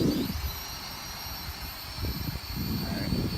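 A Holy Stone X400 quadcopter drone flies outdoors in gusty wind, its steady high-pitched rotor whine constant throughout, mixed with heavy rumbling wind buffeting the microphone.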